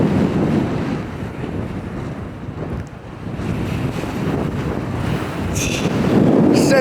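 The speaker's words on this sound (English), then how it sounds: "It's so windy." Strong wind on the Falkland Islands buffets the microphone in a steady, loud roar, with surf-like rushing underneath and no talking.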